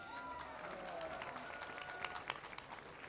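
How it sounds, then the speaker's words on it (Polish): Faint, distant applause from a crowd at an outdoor national march, a thin wash of clapping in a large space with a tone ringing faintly through it. "Wielkie brawa dla niej!"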